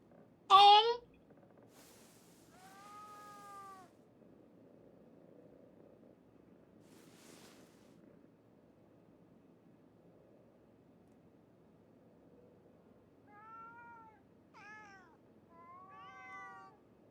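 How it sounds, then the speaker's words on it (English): Cats meow in the video game Ghostwire: Tokyo, with a sharp loud mew at the start, a single call a few seconds later, then several faint rising meows near the end over a low steady background hum. "Are there just cats over this entire apartment?"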